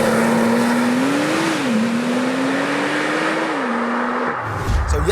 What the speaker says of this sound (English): It's a Porsche 911 Turbo S.